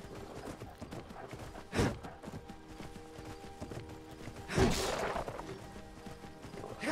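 Horse hooves clip-clop in the Skyrim video game, a soft steady patter of steps under ambient game sound, broken by two louder thudding impacts.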